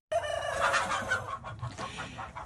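A hen clucks in a quick burst of close, bright cackling notes that tail off into softer clucks, with no one talking.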